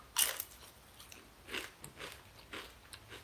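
Close-up crunching as someone bites into crispy bacon: a sharp first crunch, then several softer chewing crunches at an uneven pace, with no talking.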